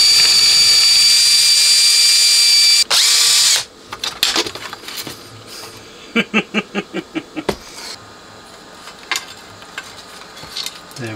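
A Makita power drill works a rounded-off screw out of a power amplifier, first a loud steady whirring for about three and a half seconds, then a quiet pause followed by a rapid series of short clattering bursts and scattered clicks.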